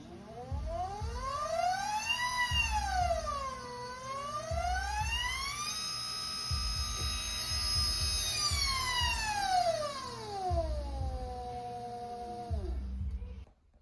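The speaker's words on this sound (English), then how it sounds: "the motor is an 800-watt 36-volt motor that I got from a large electric skateboard" An 800-watt 36-volt electric skateboard motor fitted to a motorized snow racer whines loudly, its pitch sweeping up and down several times as it revs, then cutting off near the end.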